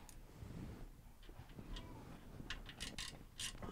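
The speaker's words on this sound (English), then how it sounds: "We'll reinstall the mounting bolts. Let's tighten them down." Mounting bolts on a Kenmore, Whirlpool or Roper washer motor are tightened with a quiet ratchet, soft clicking and metallic ticks in short bursts over faint background noise.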